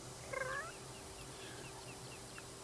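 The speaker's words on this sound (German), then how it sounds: "Die Katze betritt schon unseren Garten." A cat in the garden in The Sims 3, giving one short meow near the start and then near-silence with faint game ambience behind.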